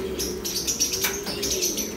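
Black pigeons coo and chirp at close range, with soft repeated calls and brief wing flutters over a steady low background hum.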